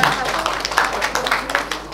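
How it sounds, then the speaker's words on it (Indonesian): Women in the audience at a talk show event in Semarang clap together, a steady stream of close, crisp handclaps with voices chattering over it. "Ibu-ibu banyak, tepuk tangan dong."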